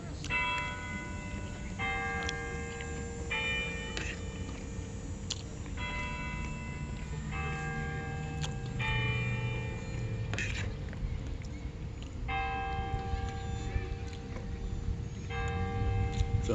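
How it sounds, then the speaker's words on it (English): Church bells ringing at noon, a steady, fairly loud peal of repeated strikes in uneven clusters with brief gaps, sustained over a low background hum. "Enjoy the bells then."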